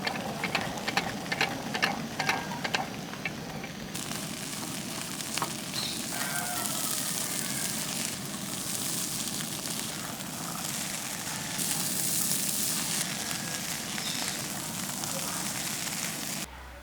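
Green peas and egg sizzle in a frying pan for a thattukada-style green peas egg roast, giving a steady close crackling hiss that stays loud throughout with occasional stirring clinks.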